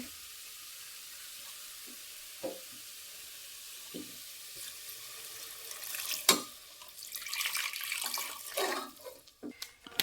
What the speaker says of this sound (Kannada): ಇವಾಗ ನಾನು ಎಷ್ಟು ಬೇಕಷ್ಟು ನೀರು ಹಾಕ್ಕೊತೀನಿ ಅದು ಕುದಿಯೋಕೆ